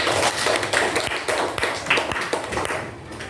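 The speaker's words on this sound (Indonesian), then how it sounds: "Kasih tepuk tangan dulu" A small class audience during a teacher-training lesson claps in a loose, uneven patter of hands with sharp individual slaps, fairly close and fading toward the end.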